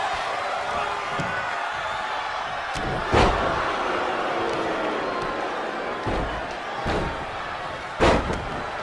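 Wrestlers are slammed onto the mat in a wrestling video game, giving several heavy thuds spaced a few seconds apart over a constant arena crowd roar.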